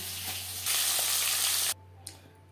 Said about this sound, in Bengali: মাছ ভেজে নেওয়া তেলে 2টো পেঁয়াজ ভেজে নেব।